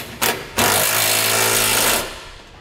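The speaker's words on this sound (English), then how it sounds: "we'll be using a 3/4-inch socket to tighten these" A 3/4-inch socket on a power tool tightens trailer hitch bolts on a 2015 Ram 1500, giving two short bursts and then a sustained loud whirring rattle that cuts off, close by with no talk.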